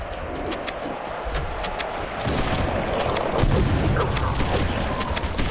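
A grenade explodes on a bridge in Halo: Combat Evolved, a booming burst that rises out of dense, continuous gunfire and battle noise.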